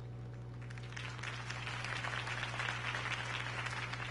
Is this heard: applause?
yes